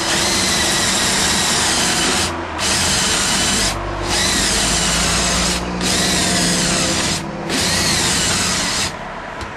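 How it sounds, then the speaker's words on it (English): A power drill bores a hole through a wooden wall stud beside finished sheetrock, whining loudly in four bursts separated by brief pauses as the bit is pulled back out, close and with no talk. "drill a hole through there"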